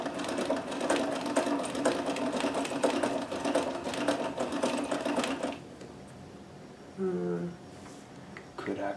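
A Necchi BU Nova sewing machine runs a double-needle zigzag stitch in a fast, steady whir for about five seconds, then stops. A brief tone and quiet handling follow.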